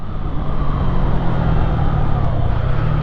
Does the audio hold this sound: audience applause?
no